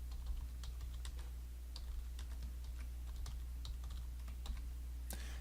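Quiet clicking of computer keyboard keys as text is typed into a spreadsheet cell, a steady run of light taps over a low hum, with no talk.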